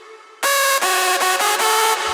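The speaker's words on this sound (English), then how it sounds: "with the square-ish sound," A square-ish synth lead layer for a hardstyle remix enters abruptly after a quiet start, a loud, bright, hollow tone holding notes with a few quick rearticulations.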